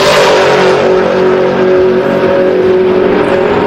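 At a Sick Week 2024 drag strip, a race car launches off the starting line in a wheel stand, its engine roaring loudly and close in a sustained, rising blast of power with no voices.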